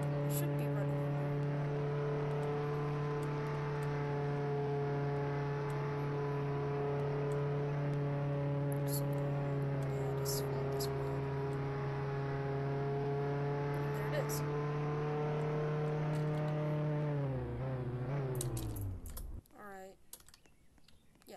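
A car in the Roblox Jailbreak game gives a steady, droning engine hum that holds its pitch, then winds down and stops, with faint keyboard clicks over it.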